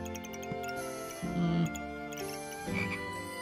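Toads croak in the video game Backpack Battles, two short low croaks over a layered game soundtrack with light ticking and tinkling effects, no talking.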